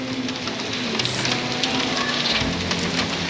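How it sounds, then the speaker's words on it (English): Rain in Lisbon patters and hisses steadily close by, with a low hum underneath and a brief deeper rumble partway through. "It's proper raining in Lisbon"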